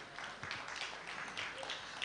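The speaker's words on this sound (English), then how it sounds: "Can we please give him a round of applause?" Audience clapping at the AFRIFF film festival opening ceremony, a steady patter of many hands heard at moderate distance, slightly uneven with a few sharper individual claps.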